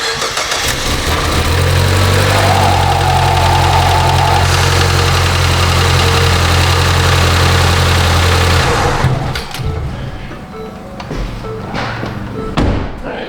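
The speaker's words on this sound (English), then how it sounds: "I have no idea if this car runs, so let's just see if it fires up here real quick." A Ford Escape engine cranks and fires up, then settles into a steady, loud close-up idle with a low droning hum before cutting off, followed by a few thumps and clatters.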